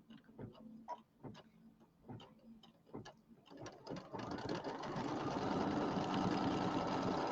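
A home sewing machine embroiders a mummy quilt block, first with separate mechanical clicks and short whirring bursts, then settling into a continuous loud rapid stitching hum.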